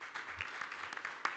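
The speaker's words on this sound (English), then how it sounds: "Please give a hand of applause" An audience at an oil and gas conference applauding a speaker, with steady, moderately distant clapping throughout and no talk.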